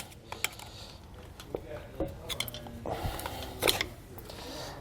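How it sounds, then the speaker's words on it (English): Prying the grease seal off a trailer hub with a tool, worked around the lip: a series of close metallic creaks, scrapes and clinks, with a louder cluster of scraping near the end. "pry it between the hub and the lip on our grease seal"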